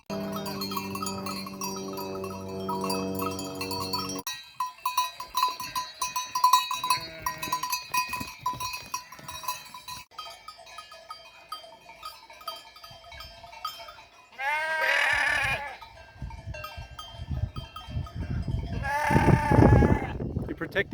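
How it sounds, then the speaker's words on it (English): Sheep bleat along a Swiss hiking trail between Flühli and Sörenberg, with a couple of loud, wavering bleats close by and faint cowbell-like clinks and footsteps between them. "So we got some sheep, as per the sign."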